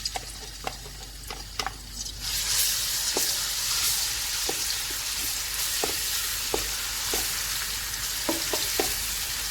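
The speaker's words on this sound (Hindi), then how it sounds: "अब इसी ऑयल में हम लहसुन और अदरक का पेस्ट डाल देंगे।" A scraping stir, then a loud, steady sizzle of garlic and ginger paste frying in hot oil, with scattered clicks and taps from the spoon throughout.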